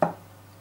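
A knife cuts through a lemon on a board for thin rounds: a single sharp, close chop that quickly fades into quiet.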